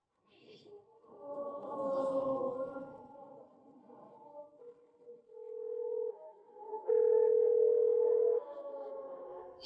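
Ringback tone of an outgoing phone call in a Kannada TV serial scene, a steady tone that rings twice with a gap between, heard faintly after some low murmur.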